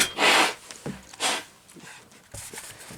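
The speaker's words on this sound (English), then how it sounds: "I need to blow my nose." Nose being blown during a casual anime chat: a few short, breathy nasal bursts, the first loudest, spaced about a second apart, close and fairly quiet.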